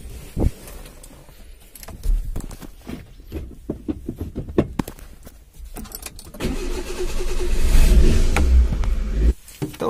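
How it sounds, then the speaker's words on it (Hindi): A car being parked outside: clicks and knocks of the driver handling the car, then the engine runs up into a louder, sustained near drone as the car maneuvers into place, and fades at the end. "तो गाइस अब अपन को लगानी है कार ना बाहर सामने"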